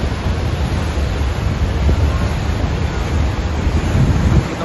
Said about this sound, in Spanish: El viento está fuerte en la caída del agua.